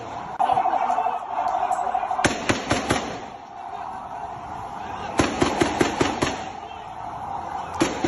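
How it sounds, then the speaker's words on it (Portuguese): Gunfire in news footage of people shooting at civilians: clusters of sharp, loud cracks in quick bursts separated by pauses, over a steady background hum and faint voices. "Disparando contra civis."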